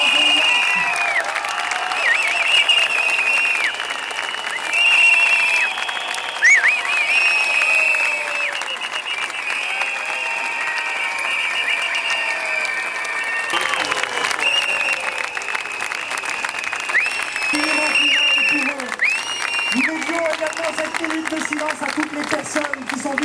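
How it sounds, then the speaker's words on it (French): A large outdoor crowd at the 2012 Montpellier Gay Pride applauds and cheers for a sustained stretch, steady clapping mixed with shouts and high whistle-like calls that swell and ebb without pause. "une minute d'applaudissements et de cris"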